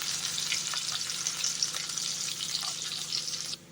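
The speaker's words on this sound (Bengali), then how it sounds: "যতক্ষণ না পেঁয়াজটা ভাজা ভাজা হচ্ছে তার জন্য একটুখানি অপেক্ষা করে নেবো" Chopped onions and capsicum fry in mustard oil with a steady, close hiss and sizzle that runs unbroken for several seconds before cutting off abruptly, with no voices.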